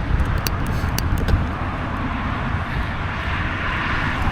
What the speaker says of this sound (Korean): 그러니까 차들이 어마어마하네